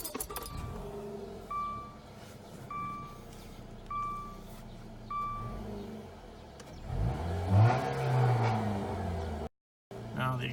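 A car engine cranks and catches after a few faint key-chime beeps, then settles into a low exhaust rumble with a brief rev, moderately close and fairly quiet.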